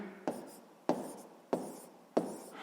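Pen strokes on paper while a math solution is written out by hand, four scratchy strokes spaced at even intervals, close and quiet.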